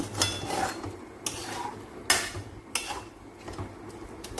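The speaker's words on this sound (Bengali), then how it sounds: "আমি এই দুধের সঙ্গে ডালকে একটু ভালো করে আগে মিশিয়ে নেব" Lentils being stirred into milk in a bowl for a golden moong dal halwa, a faint series of spoon scrapes and clinks against the bowl at an irregular pace, with no voices.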